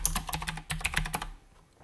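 Keystrokes on a computer keyboard while searching for Disk Cleanup in Windows 10, a quick close run of clicky taps lasting about a second before stopping.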